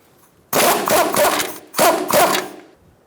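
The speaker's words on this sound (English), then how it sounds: "Using a 17mm socket, we're going to take off this top nut for our sway bar leg." Two bursts of an impact gun with a 17mm socket rattle a top nut off a sway bar link on a 2014-2019 Kia Soul during strut work, each roughly a second long, loud and close, with a short pause between.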